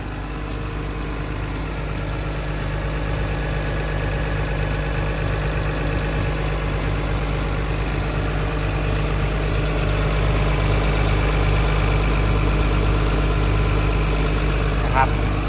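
A Caterpillar 320D 20-ton excavator's six-cylinder turbo diesel, a Cat C6.4, idles steadily throughout, a low constant rumble with a mechanical hum, close and continuous.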